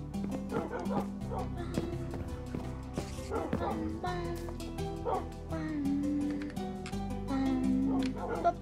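Dogs in a video game bark, yip and whimper again and again at close range over a steady tonal game soundtrack.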